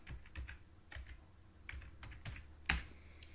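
Keys tapped on a computer keyboard while entering a store search into a notes app, with a burst of several close clicks followed by a sharper, louder keystroke near the end, with no voices.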